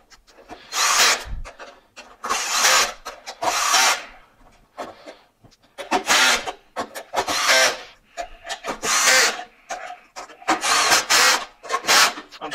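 An electric screwdriver drives screws into a Hoover UH30600 vacuum during a repair, in a series of loud, close bursts about a second long, separated by short pauses.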